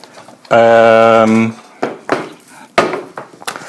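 A rigid hummus pot, set to become part of a junk instrument, is handled and knocked, giving a sustained ringing tone and then several short clattering knocks close by.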